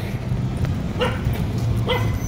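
A dog gives two short barks about a second apart over a low background rumble.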